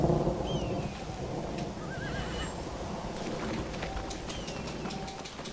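Horses neighing in the Red Dead Redemption video game, a team pulling a wagon, with a whinny early on over faint clip-clop hooves and birdsong in an outdoor setting.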